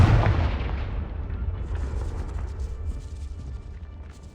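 A Confringo fire spell blasts in the video game Hogwarts Legacy: a loud, booming explosion hits at once, then rumbles and fades with crackling debris over several seconds.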